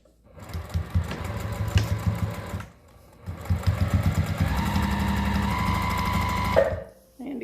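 A sewing machine backstitches elastic onto a fabric face mask in two runs of rapid, close mechanical whirring and clatter, divided by a brief pause and ending abruptly.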